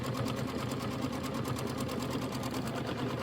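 An embroidery machine stitches out a quilt block, a close, steady, fast mechanical whirring and clatter that runs evenly throughout with no talking.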